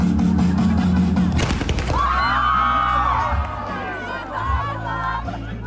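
A festive fireworks display for graduates at a celebration. Booming bursts and crackling ring out over a noisy, cheering crowd.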